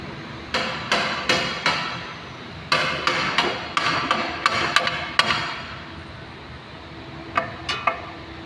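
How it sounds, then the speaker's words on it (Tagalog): A hammer knocks a lower suspension arm into place on a Toyota Vios during a suspension replacement, sounding as sharp metallic blows in short bursts of three or four with pauses between, close and fairly loud, with no talk. "Ayun ang martilyo."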